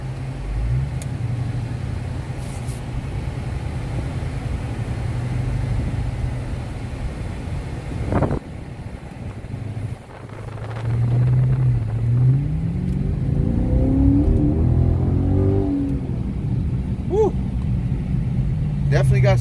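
A deep 6.4-liter Hemi V8 in a 2018 Dodge Challenger R/T Scat Pack rumbles steadily, then roars louder as the car accelerates hard, revving up through rising tones, close and loud.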